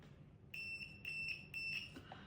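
A multimeter's continuity buzzer sounds during a test on an Olympus OM-1 camera battery modification: three shrill, steady electronic beeps in a row, each about half a second long, close and clear over faint background noise.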